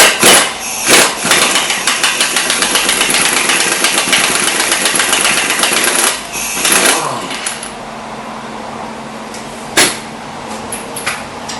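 An air ratchet loosens a shock absorber bolt on a 1992-1999 Chevy Tahoe, giving a loud, close, sustained rattling buzz for several seconds, then stopping, with a few clanks and knocks after.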